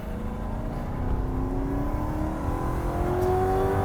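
Ford Crown Victoria Police Interceptor accelerating downhill on a rally-style run, steady engine drone with rising pitch close up inside the car, continuous and fairly loud.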